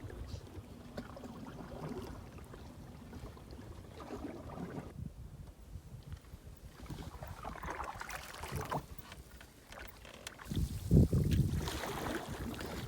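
A canoe is paddled across calm water, giving soft, irregular splashes and drips close by, with light wind buffeting the microphone and a louder splash near the end.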